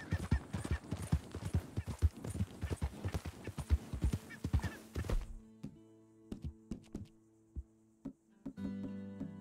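Hoofbeats of a horse ridden in the video game Red Dead Redemption 2 clop in a fast, steady gallop, then slow to sparse, separate steps over a quiet tonal game backdrop.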